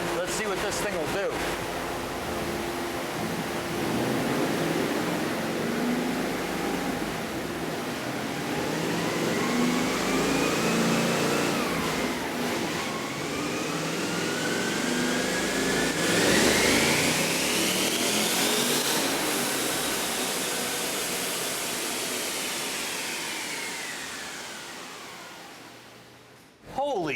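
A car engine on a dyno in a testing center, a loud sustained run whose pitch climbs and falls through several sweeping pulls before cutting off near the end.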